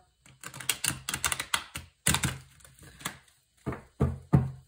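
Tarot cards shuffled close up, a series of quick crisp riffling bursts and taps separated by short pauses, with no talking.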